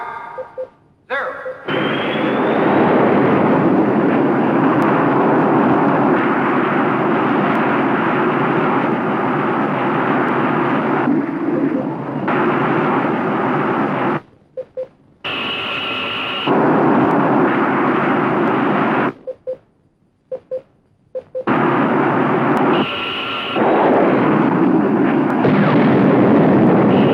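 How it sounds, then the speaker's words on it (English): A Hunter-type missile launches in a 1958 film, a loud sustained roaring blast like a rocket or jet engine that cuts out and resumes several times, with brief higher whines and a little background talk. "Counterattack by Hunter-type missile."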